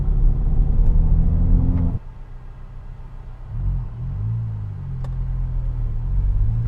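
Hyundai N car at the Hyundai N-Festival 2025, its engine note blended with artificial sound piped through the cabin speakers: a loud, low droning rumble that dips sharply around two seconds, then rises again in a wavering, revving hum.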